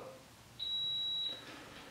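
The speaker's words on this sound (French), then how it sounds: "bip long" A roller shutter motor gives a single long, high electronic beep lasting nearly a second, clear and fairly close against a quiet room.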